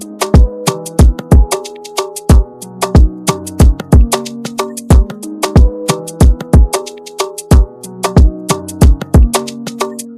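A punchy kick drum pounds a steady groove with layered percussion hits and pitched tones in an FL Studio beat. It plays loud and close throughout, with no voices.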